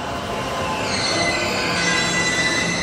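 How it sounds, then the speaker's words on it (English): A train rolls into a station in Tokyo with loud, sustained high-pitched wheel squeal over a rumbling mechanical drone, close and steady. "That might be our train right there."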